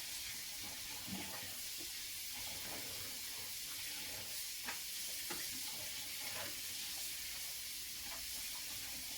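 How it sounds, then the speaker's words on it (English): Synthetic wigs are swished around in a basin of warm conditioner water, giving soft, quiet sloshing and splashing with small irregular bursts of water movement throughout. "I'm just tossing my wigs around in this conditioner water to make it conditioned"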